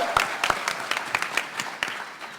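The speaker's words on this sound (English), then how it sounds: "Well, Kevin Shinnick, one more round of applause for Kevin." Applause from a convention panel audience at New York Comic Con, a soft scatter of hand claps heard from a distance for a couple of seconds.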